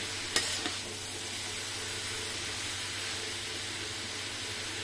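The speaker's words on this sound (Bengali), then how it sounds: "আগে রসুন পেঁয়াজগুলা পেঁপে ভাজির মধ্যে ভালো করে মিশাই নিতেছি।" Garlic and onion are stirred into green papaya frying in a pan, giving a steady close sizzle with a couple of sharp utensil scrapes near the start.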